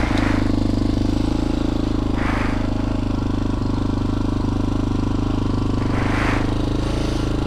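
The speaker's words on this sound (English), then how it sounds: "Prime the motor. And start her up. Look at that. Didn't even need the choke." A TaoTao TBR7 motorbike engine runs after starting, a loud, steady idling drone up close. A few brief rising bursts of hissy throttle blip over the continuous rumble.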